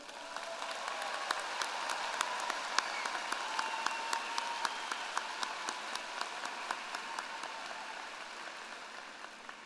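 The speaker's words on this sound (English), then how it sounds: "Can we give them a round of applause" Steady applause from a sizable crowd at a university commencement ceremony, dense clapping holding at an even level for the whole stretch with no voices on top.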